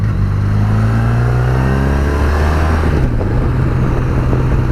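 A motorcycle engine drones steadily nearby on a mountain road with hairpins in Austria, its pitch rising and then shifting down as the bike rides on, with constant wind noise.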